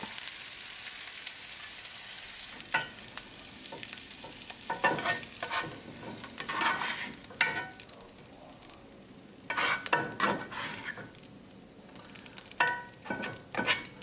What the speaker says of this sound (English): So with the ginger garlic cooking for 1 minute